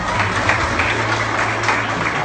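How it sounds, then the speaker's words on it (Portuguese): A church congregation at a mission service in Bahia clapping hands together, a steady dense wash of applause over a low hum, with a voice faintly present underneath. "agora bate palmas"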